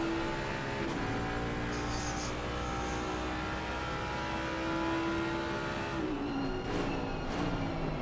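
Porsche race car engine in a sim racing league round at Spa, a steady high-revving drone with tonal whine that shifts down near the end as gears change, accompanied by other cars' engines.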